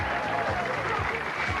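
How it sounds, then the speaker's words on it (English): Steady applause from the crowd at a 1991 tenpin bowling stepladder match, a dense wash of clapping that fills the whole moment without pause. "And the crowd starting to get right behind him."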